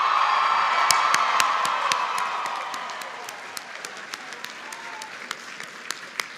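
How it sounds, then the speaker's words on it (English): Crowd at a college commencement applauding the graduates, dense clapping with cheers and whoops that thins out, leaving a few sharp individual claps near the end. "A round of applause for all of our graduates."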